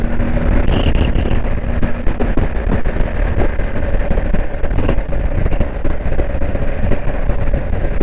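A BMW R1250 GS Adventure HP Rallye motorcycle's twin engine runs steadily at a deep, smooth idle rumble, close up and continuous throughout.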